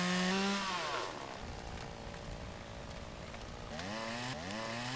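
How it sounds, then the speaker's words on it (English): A small chainsaw cuts little tree stumps in the Farmer's Dynasty video game, its engine droning steadily and rising in pitch as it revs into each cut, loud and close with no talking. "It's obviously a tiny chainsaw."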